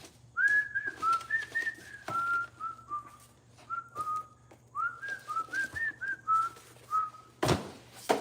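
Someone whistles a meandering tune, a string of short, clear notes over a low steady hum, with a brief thump near the end.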